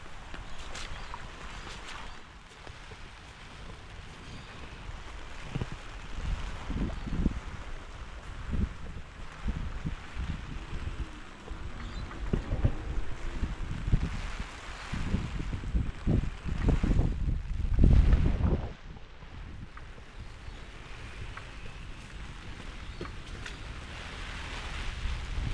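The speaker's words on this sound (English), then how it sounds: "And that's just the light wind" Wind gusting through a backyard vegetable garden ahead of Cyclone Alfred in New South Wales, Australia, a steady broadband rush with buffeting microphone noise that swells and peaks near the end before easing.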